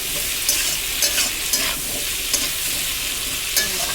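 Vegetables sizzling steadily in a frying pan before Malabar spinach goes in, with periodic scraping strokes of a spatula stirring, close and continuous without speech.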